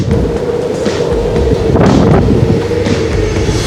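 Strong, cold wind on a cruise ship roars and buffets the microphone in a constant, loud rush with occasional heavier gusts.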